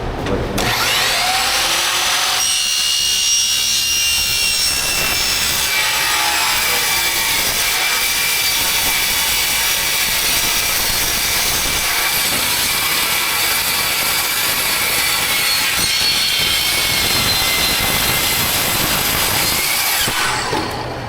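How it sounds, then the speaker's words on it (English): Power saw fitted with a wood blade cutting through aluminum, producing a loud, continuous high-pitched screeching whine that lasts about twenty seconds without a break. "Did you know you can cut aluminum with a wood blade?"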